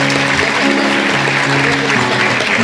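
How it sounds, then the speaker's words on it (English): Audience applause at a school district academic awards evening, continuous and full, many hands clapping at an even loudness with a low musical hum beneath and no voices over it. "Let's give another round of applause for our students from Tomball Star Academy."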